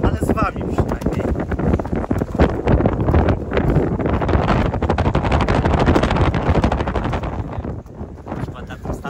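Strong wind buffets the microphone aboard a boat during an outdoor meal, a loud, rough rumble that gusts throughout while people talk over it.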